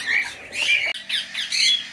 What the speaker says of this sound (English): these are two little zebra finches